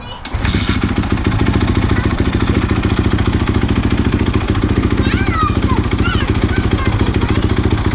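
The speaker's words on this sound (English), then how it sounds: "kick it over like 4 times and then rev it like that to prime it" A new Kawasaki KX450F dirt bike engine catches after a kick start and settles into a loud, close, rapidly pulsing idle that holds steady, with faint chirping sounds over it partway through.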